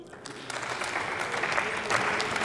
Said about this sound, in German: da ist viel Beifall angesagt